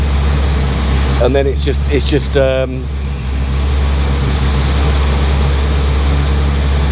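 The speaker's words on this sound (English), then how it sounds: "revving quite high" Riley Kestrel 1300 car engine idling then revving high, a loud steady low drone that runs through the whole clip with someone talking briefly over it.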